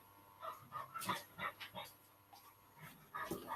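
A puppy whimpers and yips in short, faint bursts, several soft whines spaced unevenly across the moment, with no talking.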